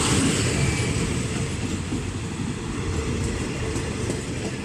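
A Thai passenger train rolls past on the railway near Samsen, a loud, continuous low rumble of wheels and carriages with faint clicking on the rails throughout.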